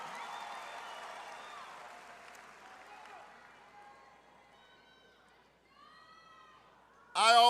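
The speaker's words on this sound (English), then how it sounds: "Graduates, give yourselves a big round of applause." Graduates at a spring 2024 university commencement ceremony applaud in a broad, diffuse wash of clapping and crowd noise that gradually fades, followed by a sudden loud burst at the end.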